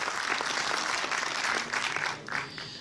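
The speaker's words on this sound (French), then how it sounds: "qu'on peut applaudir" An audience at an evening event in Marennes on the Île d'Oléron applauds, a dense, steady wash of clapping that carries on throughout and tapers slightly near the end.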